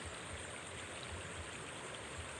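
Floodwater rushes after heavy rain, a dense, loud, continuous roar of flowing water with no talking.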